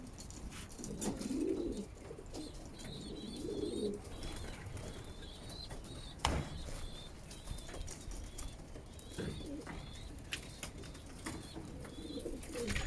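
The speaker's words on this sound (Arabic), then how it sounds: "الحمام دابا بدا يعني بدا كيسوس" Pigeons coo softly in a repeated, rhythmic pattern at close to moderate distance, with occasional small chirps and a sharp knock; the scene is otherwise quiet and wordless.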